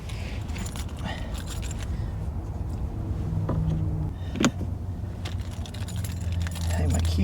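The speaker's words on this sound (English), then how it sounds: "Hang my keys up." A bunch of keys rattles and jingles in scattered clinks while being hung on a hook inside a parked truck camper, close to the microphone over a steady low rumble.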